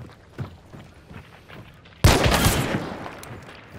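Shotgun fired in a video game: a single loud, close blast breaks a quiet stretch of faint shuffling and leaves a rumbling tail that fades slowly.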